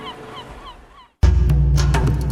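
Waterbirds call in a busy coastal wetland roost, first faint and far off with repeated honking cries, then a sudden louder wash of calls and flapping close by.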